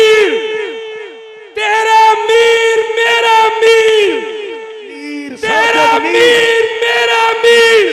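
Large crowd at a religious political rally roaring a slogan in unison in reply to a takbir call, loud and near, in repeated bursts of massed shouting broken by a short pause.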